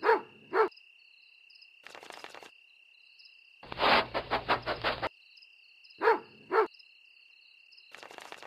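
A dog barks at night on a farm, bursts of two close barks repeating, with a quick rapid flurry in the middle and a steady high insect-like tone running underneath.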